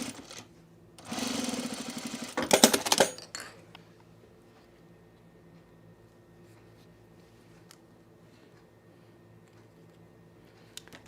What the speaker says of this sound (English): let's put the top stitching back in